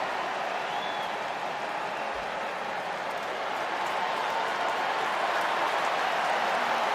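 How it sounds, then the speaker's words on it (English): Stadium crowd at a Manchester City versus AC Milan football match applauds as Christian Pulisic comes on, a steady, dense roar of clapping and cheering that holds evenly throughout with no talk. "The applause isn't so much for Bucani, for this man here."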